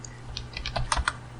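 Keys on a computer keyboard are tapped in a short quick run of about eight clicks, close and fairly quiet.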